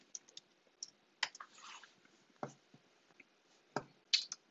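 Sparse, crisp keystrokes on a computer keyboard while entering a form submission, a few isolated clicks and short bursts spread out with quiet gaps, close by and with no voices.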